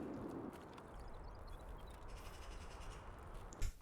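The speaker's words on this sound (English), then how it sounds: "There's that crow again." A crow caws in the game Escape from Tarkov on the Interchange map, a few short, faint calls heard at a distance over a steady ambient hiss, with a brief thump near the end.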